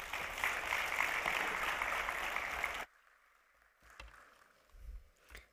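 A burst of applause from a sizable audience at a monetary policy and financial stability statement fills the first three seconds, then cuts off abruptly, leaving a few faint knocks and rustles.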